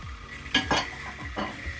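Vegetables sizzle and fry in a pan, with a utensil stirring and scraping in several quick strokes over a steady close hiss, no voices.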